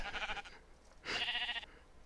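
Two short sheep bleats sound in a Minecraft world, one after the other with a brief gap between them. Both are nasal and wavering, at moderate volume, with no speech.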